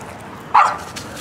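A dog at play lets out a single sharp, loud bark close by over faint background noise.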